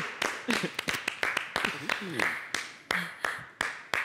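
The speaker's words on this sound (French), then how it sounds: "S'il vous plaît, j'aimerais que vous l'applaudissiez très fort pour son courage" Sharp, scattered handclaps for Pilou the magician on a local TV stage, sounding close and uneven while a voice talks over them.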